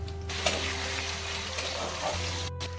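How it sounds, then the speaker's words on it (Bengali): Chopped tomatoes with dried red chilli, bay leaf and cumin frying in hot oil for a Bengali fish curry, a steady close sizzle with occasional stirring clinks. "তেল গরম হয়ে গেলে শুকনো লঙ্কা, তেজপাতা আর জিরে ফোড়ন দিয়ে দেবো টমেটো কুচি।"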